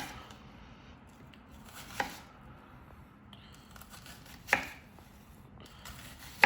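A knife cuts an onion-like vegetable into half rings on a cutting board, making three sharp, separate chopping thuds spaced a couple of seconds apart over a quiet room background.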